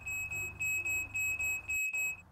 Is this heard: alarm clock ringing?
yes